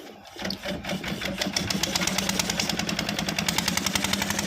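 A small engine catches and settles into a fast, steady mechanical chatter, loud and close, with rapid regular pulses running throughout after a brief uneven start.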